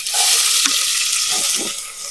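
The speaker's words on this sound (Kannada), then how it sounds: "ಇವಾಗ ಎಣ್ಣೆ ಕಾದ್ಮೇಲೆ ಇದಕ್ಕೆ ಏನ್ ಹಾಕ್ಬೇಕು? ಈರುಳ್ಳಿ ಹಾಕ್ಬೇಕು." Onions sizzle in hot oil for a chicken sambar, a steady broadband hiss with soft stirring clatter and a few low bumps, continuous and fairly loud with no talk.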